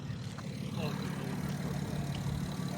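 A tuned single-turbo BMW G80 M3 xDrive of about 900 horsepower idles with a steady, deep rumble that is loud and close and holds unbroken for a few seconds.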